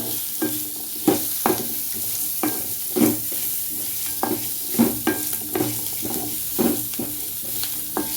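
Pirandai, the adamant creeper, is sautéed with rock salt in a pan on a low flame. A soft continuous sizzle runs under a series of sharp, regular scraping stirs from a spatula, heard close and with no talking.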